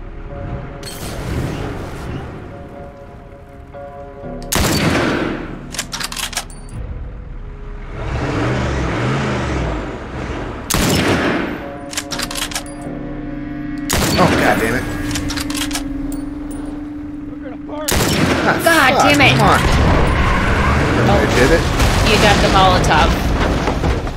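Gunfire and explosive booms from the video game The Last of Us come in several loud bursts, with a dense sustained barrage toward the end, mixed with game noise and people talking.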